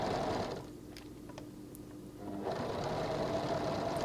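A sewing machine stitches bias binding closed at the tie of a sun dress armhole, running as a steady close whir that dips quieter for about two seconds mid-run and then resumes at full speed.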